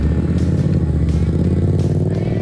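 A small motorbike engine runs steadily nearby, a continuous buzzing putter with a faint rattle and no pauses.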